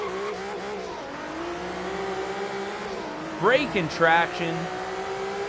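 A Nissan Fairlady Z engine in Forza Horizon 3 drones steadily through a tunnel run, then revs sharply twice near the end, with someone talking over it throughout.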